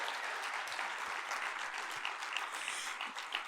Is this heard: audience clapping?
yes